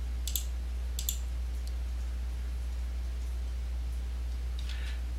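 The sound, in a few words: computer mouse clicking while placing walls in design software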